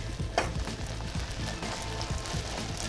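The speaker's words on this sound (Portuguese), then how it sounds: "começou a formar essas espumas, ele já tá começando a caramelizar lá embaixo" Sugar caramelizing for a vegan bread pudding, bubbling and foaming in a pan: a steady, close sizzle with soft popping and crackling bubbles, heard alone without talk.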